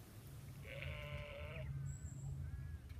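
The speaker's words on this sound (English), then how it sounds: "We found some sheep on our drive back to the airport." A single sheep bleats once from a short distance, a wavering mid-length call over low rumbling vehicle or wind noise outdoors, followed by faint higher chirps.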